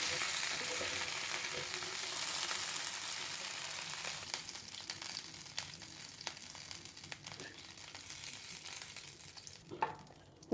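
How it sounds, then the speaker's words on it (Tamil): Fish fries in oil in a pan, a steady close hiss and sizzle with faint crackles and scraping stirs, running alone throughout. "நம்ம மீன் ஃப்ரை பண்ண இதே எண்ணெயில்"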